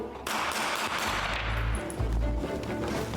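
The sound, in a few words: gunfire from a military training video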